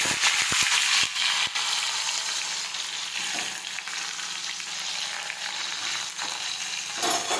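Chopped spiny gourd (kantola) sautés in hot oil with mustard seeds, cumin and crushed garlic, giving a loud continuous sizzle with a few sharp spatula taps at first and occasional stirring scrapes, and no speech.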